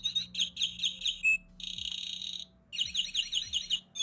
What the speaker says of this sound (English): Let's see what a blue tit does.